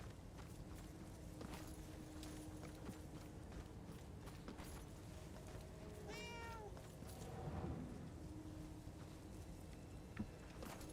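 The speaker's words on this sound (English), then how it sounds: "Oh, hey, cat." A cat in the Murdered: Soul Suspect video game gives a single short meow midway, faint against a low, steady game ambience with occasional soft footsteps.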